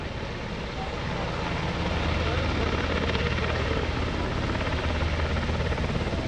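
A UH-60 Blackhawk helicopter hovers at the 2021 Greenwood Lake airshow, its loud rotor and turbine roar holding a steady, dense drone that swells slightly after the first second.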